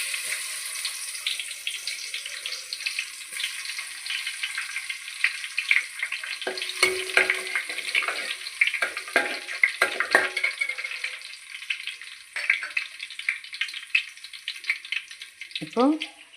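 Garlic sizzles steadily in a pan of oil for a Tamil fish curry, a continuous bright frying hiss with occasional soft stirring scrapes, close and loud throughout.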